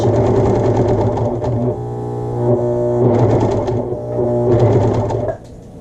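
A home overlock serger running slowly through a fabric swatch, a steady mechanical whirring hum with rhythmic stitching ticks that pauses and restarts a few times before stopping near the end.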